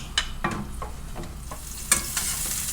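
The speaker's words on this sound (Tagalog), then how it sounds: "Gisa tayo ng sibuyas." Onion and garlic sauté in hot oil with a close, crackling sizzle, punctuated by several quick spatula scrapes and taps in an irregular rhythm. No voices.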